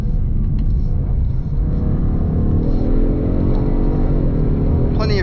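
A 2024 Ford Mustang with the 2.3-litre EcoBoost engine at full throttle gives a loud, continuous engine roar with a rising tone as it accelerates, heard from inside the car.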